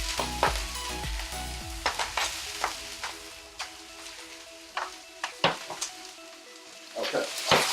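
Sliced onions hitting a hot pan with a steady sizzle, punctuated by sharp clinks of a utensil against the pan and stirring scrapes, close and fairly loud with no talking.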